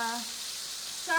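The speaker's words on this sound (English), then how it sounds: "This frying pan is a little loud, and so I feel like I have to talk above it." Chicken frying loudly in a frying pan for lemon butter chicken, a steady hiss and sizzle that continues throughout, with brief bits of voice at the start and end.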